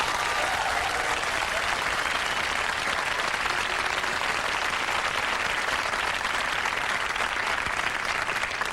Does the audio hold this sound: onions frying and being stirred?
no